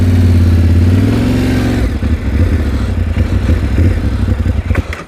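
A Yamaha T7 adventure motorcycle ridden by a rider standing on the foot pegs, its mid-pitched engine loud and close, idling steadily and then revving and chugging in uneven bursts.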